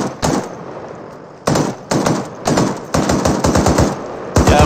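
Loud close bursts of automatic rifle fire from a military shooter game, laying suppressive fire in rapid strings with short gaps between them.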